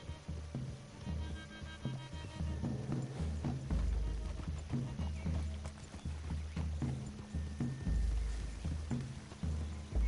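Horse hooves clip-clop in the video game Red Dead Redemption 2 as riders move through trees, a steady rhythmic trotting close by that runs the whole time beneath soft tonal background music.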